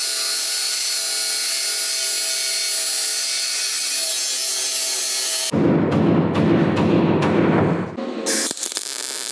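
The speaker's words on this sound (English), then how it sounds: "we're just gonna cut these floor supports so we can get the tank up as close to the bottom of the floor as possible" Power saw cutting through van floor cross members for an under-mount propane tank, starting as a steady high whine and switching to loud, rough, grinding cuts with brief stops and restarts.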